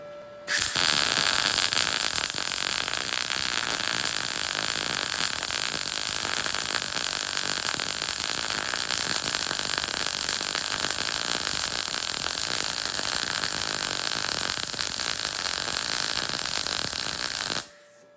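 An Arccaptain MIG 200 welder lays a MIG weld, giving a continuous crackling, sizzling buzz that holds steady for about seventeen seconds and then stops abruptly.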